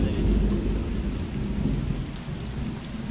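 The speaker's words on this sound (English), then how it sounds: "Did you guys hear that thunder on my mic?" Thunder and heavy rain come through a gamer's microphone during a DayZ session, a deep continuous rumble under a dense hiss of pouring rain with no voices.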